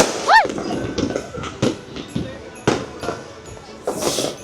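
New Year's Eve firecrackers going off outdoors near a home, a run of sharp pops and bangs at irregular intervals over a constant noisy crackle, with one whistling rocket rising near the start.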